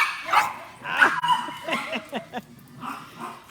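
A dog with an injured leg, a rescue mother who had a litter of eight, gives several short barks and yips close by, mixed with whimpering sounds and a person talking softly over them.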